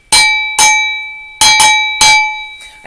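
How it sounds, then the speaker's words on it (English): A cowbell rings five times in loud, bright metallic clangs, spaced unevenly and fairly close, each one ringing out briefly before the next strike, as part of a live music and poetry performance. "You can ring my bell, my cowbell."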